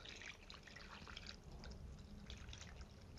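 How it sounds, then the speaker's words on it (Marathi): Water poured into a plate over grated potatoes to rinse them, a steady close splashing and trickling that runs through the whole moment with no talk. "आता ताटामध्येच आहे ना मी पाणी घालते"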